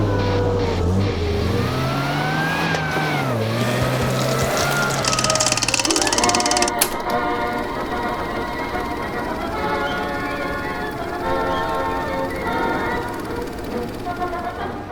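A seventy-year-old Ferret scout car, a road-legal armoured vehicle under 4.5 tonnes, drives with its engine revving up and down, then settles into a steady rumbling run with a sharp knock midway, heard close and loud throughout.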